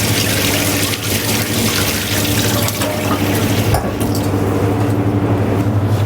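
A tap runs water over fresh scallops in a restaurant kitchen, a steady loud hiss of rinsing that goes on without a break.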